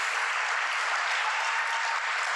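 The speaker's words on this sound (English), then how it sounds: "Give them a big round of applause, please." A civic audience applauds at a city's State of the City address, a steady wash of dense clapping held at even level throughout without a break.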